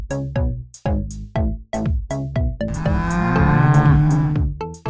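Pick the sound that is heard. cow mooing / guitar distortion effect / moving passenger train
cow mooing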